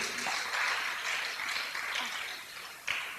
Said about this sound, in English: A round of applause for our mommies,